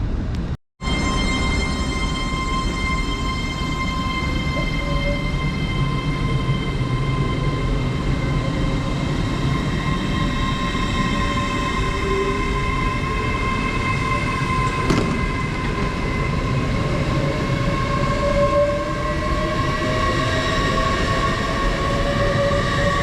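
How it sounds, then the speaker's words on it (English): An LNER Class 801 train pulls out of Newark North Gate station, its steady loud rolling rumble and electric whine filling the whole stretch, with rising and shifting tones as it accelerates away. "there's 801-203 heading out on the 11:30 LNER service to Leeds from London King's Cross"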